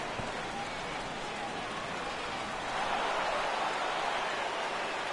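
Steady rain falling during a rainy game in the baseball video game MLB The Show, a constant broadband hiss that swells slightly partway through, with faint commentary-like voices mixed underneath.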